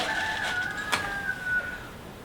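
A chicken calls out with a drawn-out, wavering cry over quiet outdoor ambience. A single brief click sounds midway.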